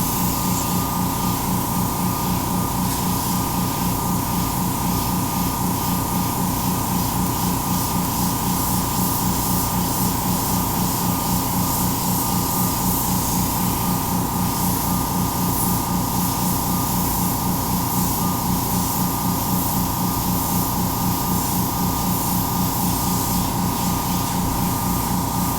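An airbrush sprays paint onto a resin pour with a constant, even hiss and a steady air-compressor hum underneath. It runs unbroken and close for the whole stretch, with no talk.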